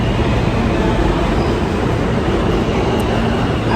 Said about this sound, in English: So of course my train's been passing me by.